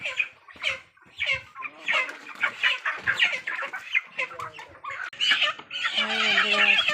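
Chickens cluck and squawk in a dense, continuous chorus at a poultry farm, several birds calling over one another at close range, with a louder, steadier patch of calls near the end.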